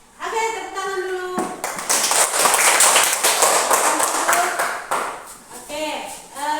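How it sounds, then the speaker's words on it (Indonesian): Pupils in a classroom clapping together, a brisk burst of applause lasting a few seconds, framed by a teacher's speaking voice before and after. "Oke, tepuk tangan dulu."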